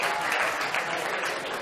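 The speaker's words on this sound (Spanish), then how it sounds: "un aplauso para Isabel porque ha acertado la respuesta" A classroom breaks into applause for a student named Isabel after a correct answer: dense, steady clapping from a group of pupils, close and fairly loud, with no talk over it.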